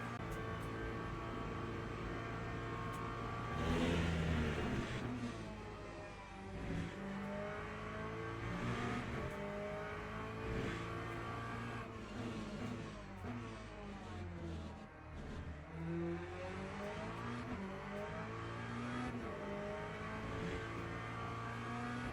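A Corvette LMGT3 race car engine in the Le Mans Ultimate racing game revs hard and continuously, rising and falling through gear changes, loud and alone with no voices.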